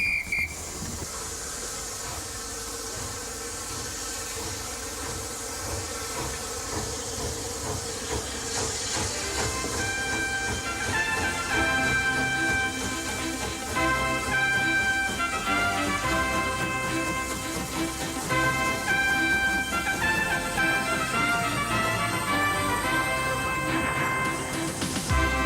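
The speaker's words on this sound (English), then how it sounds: "There's something especially British about steam trains." A British steam express train from 1988 running steadily, with continuous hiss, rumbling wheels and tonal whistle-like components that build after about ten seconds, loud and constant throughout.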